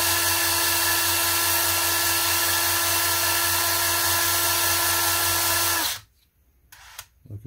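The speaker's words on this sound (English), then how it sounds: "I'm just going to floorboard my drill and start sanding." Power drill spinning sandpaper against the tire of a 1:25 AMT 1934 Ford truck model, a loud steady whining buzz held for about six seconds before cutting off abruptly, followed by faint handling noises.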